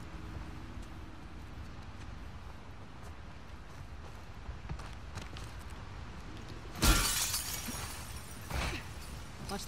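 Glass shatters in The Last of Us Part II, a sudden loud crash rising out of steady ambient noise and followed by scattered tinkling debris and a smaller second impact.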